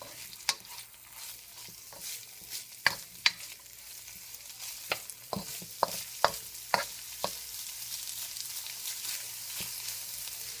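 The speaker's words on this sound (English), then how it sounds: "And you want to saute your onion" Onion sauteing in a pan for a macaroni and cheeseburger bake, a steady hiss of sizzling with repeated sharp clicks and scrapes of a utensil stirring, close and clear with no talking.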